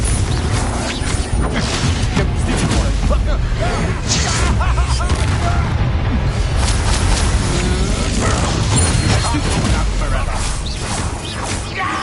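A Confringo blasting curse goes off in Hogwarts Legacy, a loud boom and crash amid a dense, continuous wash of combat effects and music, with a voice talking throughout.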